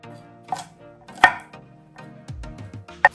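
A few sharp knife strikes on a cutting board as garlic is crushed, spaced irregularly, with soft kitchen clatter and a low hum between them.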